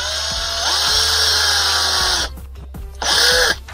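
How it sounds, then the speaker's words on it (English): A power drill drilling through a metal rod whines loudly and steadily, briefly stops, then spins up again for another short burst. "so now I'm just going to drill"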